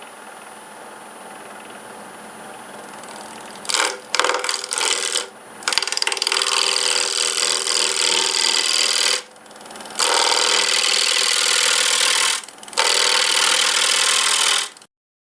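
A wood lathe shapes the underside of an ash bowl, the gouge cutting in loud sustained bursts separated by short pauses, with a faint motor hum audible in the quieter gaps.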